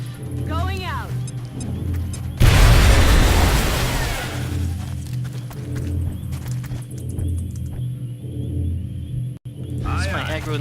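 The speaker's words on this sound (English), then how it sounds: "maybe grenade the Thin Man. That should do the trick." A grenade blast in XCOM Long War hits a Thin Man: a sudden loud boom lands a couple of seconds in and rumbles away over the next two seconds, with game music underneath and a voice talking before and after.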